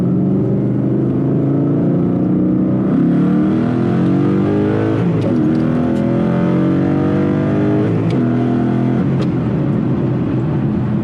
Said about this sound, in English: No, it's all naturally aspirated. It's all V8. It's just motor.